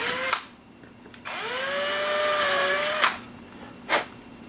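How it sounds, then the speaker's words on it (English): A power drill whines up to speed and runs steadily for a couple of seconds, then stops, followed by short bursts of drilling out holes in the plastic parts of a 1/14 scale model truck. "So I'm going to drill those out with a larger hole."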